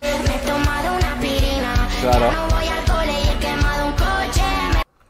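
Dense hyperpop with bright, heavily autotuned vocal lines over punchy repeating beats, playing loud and steady before cutting off abruptly near the end.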